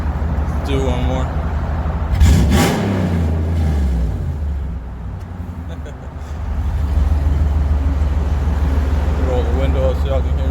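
A Ram 1500 with Doug Thorley catless headers gives one sharp, loud rev that falls back to a heavy, rumbling idle. Someone speaks over the steady exhaust drone.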